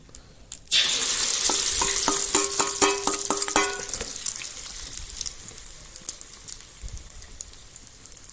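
Ingredients dropped into hot oil for a spicy Isan-style tom eian soup burst into a loud, close sizzle, and splashes and clatters crackle through the first seconds before the hiss settles into a steady, fading fry.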